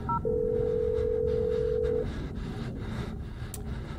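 Phone keypad tones in the horror game Blair Witch while checking voicemail: a short pair of beeps, then one steady tone lasting about two seconds before fading into quiet ambient hum.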